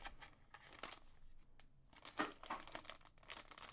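Topps Chrome Update baseball card packs being shuffled and torn open, giving close, quiet crinkling and rustling of foil wrappers in irregular bursts, with no talking.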